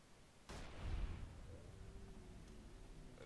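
A single cowboy repeater carbine shot in the video game Fallout: Dust, a sharp loud crack with a booming tail that slowly fades into quiet ambient background.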